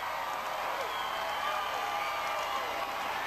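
Crowd at Seattle's Seafair Torchlight Parade, largely military families welcoming Navy troops home, gives a steady wash of cheering and clapping, continuous and somewhat distant, with no distinct voices standing out.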